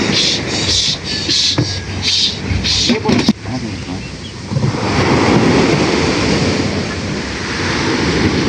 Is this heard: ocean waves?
yes